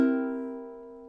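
One ukulele chord rings out from a single strum at measure 17 of the Hawaiian song "Loke Lani," clear and close, decaying smoothly.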